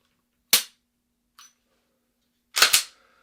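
Handgun fired during defensive shooting practice: two loud, sharp reports about two seconds apart, the second a quick double, with a faint metallic click between them.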